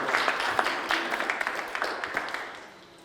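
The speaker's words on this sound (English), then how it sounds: "Give her a round of applause." An audience at a mayoral town hall applauds to welcome a district commissioner, moderate scattered clapping that fades out toward the end.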